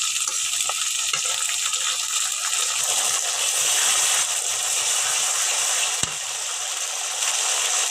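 Ginger and garlic paste frying in a pan, a steady, loud broadband sizzle that holds evenly throughout, with a single sharp click near the end.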